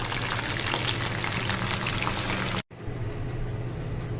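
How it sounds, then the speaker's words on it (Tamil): Water boils in a cooking pot for traditional rice upma, a steady close bubbling hiss that cuts out briefly near the end and then resumes. "தண்ணி நல்லா சூடானதும் நல்லா கொதித்து வந்ததும்"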